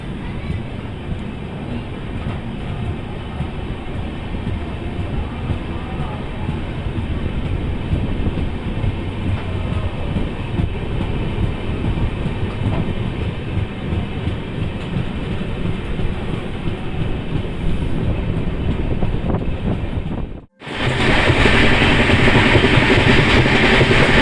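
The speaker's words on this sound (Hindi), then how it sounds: "2 मिनट के हॉल्ट के बाद हम फिर से निकल चुके हैं अपने अगले स्टॉप जो कि है गोमो" The Bhubaneswar Rajdhani Express rolls on after a station halt, a steady loud rumble with clickety-clack from inside the coach, cutting off abruptly before a brighter, noisier rush returns.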